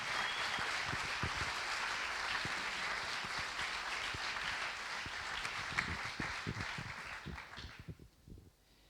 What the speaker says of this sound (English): Please give him a warm applause.